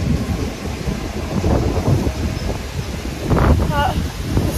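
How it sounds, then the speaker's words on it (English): Gusty wind roars steadily across the microphone, with rustling and a rumbling low end, and a voice speaks briefly near the end. "it's so windy today"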